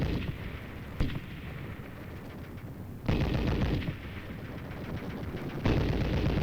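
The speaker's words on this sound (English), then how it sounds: "it was quite different when live ammo was being thrown at you" Live ammunition fire during a South Korean army training course: continuous rattling machine-gun bursts with sharp, heavy bangs at intervals, loud and dense throughout, with no voices.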